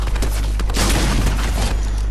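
A heavy Fortnite gunshot booms loudly near the start of a match at Weeping Woods, followed by a dense burst of blasts and rumbling impact noise that fills the moment.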